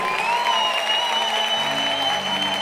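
Steady, dense applause from worshippers at a prayer marathon, continuous crowd clapping close by with sustained tones underneath.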